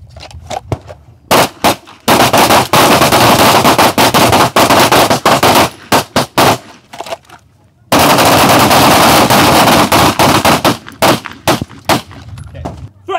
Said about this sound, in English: working on our trigger to where you guys can shoot as fast as you can see and still get good hits